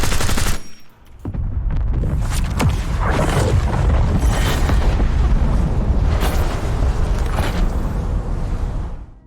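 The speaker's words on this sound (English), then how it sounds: "So 345 bullets later, the bomb will explode, ending the game." A nuclear bomb detonates in the Black Ops 6 video game after heavy gunfire. A brief lull gives way to a loud, sustained roaring blast with rumbling and crackling debris that fades toward the end.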